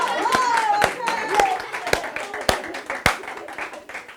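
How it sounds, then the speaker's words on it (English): Sparse, uneven clapping from a small audience after a poem at a casual performance, a handful of sharp hand claps spaced out over a few seconds with faint voices underneath. "Let's just clap"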